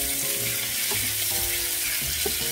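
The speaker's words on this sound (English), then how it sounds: "So I'm gonna let this saute a little bit" Peppers and other vegetables sauteing in a pot, a steady close sizzle with light stirring scrapes underneath.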